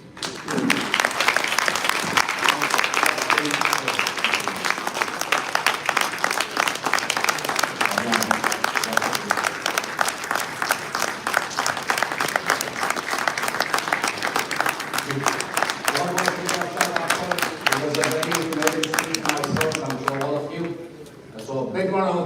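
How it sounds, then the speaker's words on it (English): Audience at a gala dinner applauding, a long dense wash of many hands clapping that thins near the end, with a voice speaking over the last moments. "So a big round of applause again for Dr. Soshwar"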